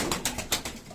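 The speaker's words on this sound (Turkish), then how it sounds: "Çok kuş var abi Muhammed." Pigeons kept by a breeder make soft, rapid, breathy pulses in a quick series of about five short bursts, close and alone without talk.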